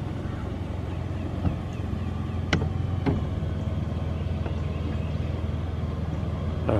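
Caterpillar 323 excavator idling on a river barge: a steady low diesel rumble with wind noise across the microphone, broken by a couple of sharp knocks midway.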